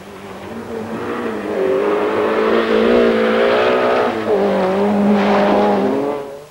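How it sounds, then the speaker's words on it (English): A Volkswagen Golf GTI Group A rally car at the 1986 RAC Rally drives with a steady engine note that swells and shifts as it revs, loud and close, with no voices. "This is 30-year-old Kenneth Eriksson in his Volkswagen Golf GTI"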